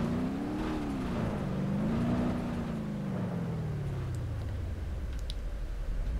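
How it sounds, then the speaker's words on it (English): A car engine in BeamNG.Drive gives out after a crash, a loud continuous strained drone that sags slowly in pitch, with a few faint clicks and knocks near the end. "There goes the engine."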